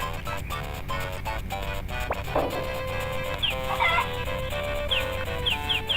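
Chickens clucking in the farming video game Harvest Moon: Friends of Mineral Town, with repeated short, fairly loud clucks over steady game music and ambience throughout.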